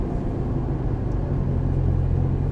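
A 1991 Acura NSX on the move, its low steady exhaust drone and road rumble sitting close and constant with no voices.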